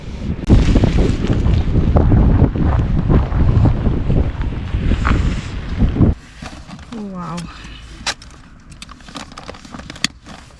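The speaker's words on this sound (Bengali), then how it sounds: "এখানে প্রচণ্ড হাওয়া প্রচণ্ড বলবো না বাট ভালোই হাওয়া" Strong wind on a North Sea beach in Norway buffets the microphone with a loud, roaring rumble for several seconds, then drops to a quieter gusty hiss with brief sounds near the end.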